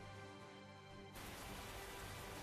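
Steady rain falls in the video game Tales of Zestiria, a dense broadband hiss that swells noticeably louder about a second in and then holds constant, alone with no voices.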